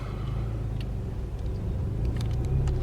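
A Chevrolet Lacetti creeping slowly through a traffic jam, with a steady low engine and road rumble from inside the car and faint clicks over the top; the car has a fuel problem and struggles to start when cold.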